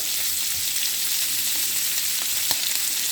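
Butterflied shrimp laid flat sizzle in a hot pan, a close, steady hiss of frying oil with a few small pops and crackles, no voices.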